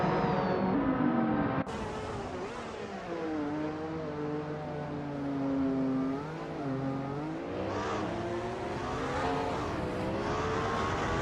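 Race cars, including a 1995 Rough CTR2, drive in a racing video game: a loud, continuous engine drone with shifting revs and pitch sweeps fills the whole stretch, with no talk over it.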